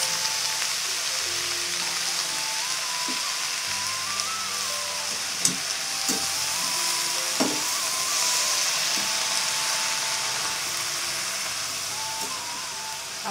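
Greens (shak) cook in a pan with a steady, loud, close sizzle and frying hiss that never lets up, broken by a few light clinks of a utensil against the pan.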